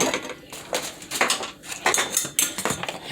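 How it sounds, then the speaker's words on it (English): Spoon stirring ingredients and oil together in a bowl for a chicken and beef tamale pie, repeated scraping and clinking strokes against the bowl, close and steady. "Then you stir this in, get it incorporated."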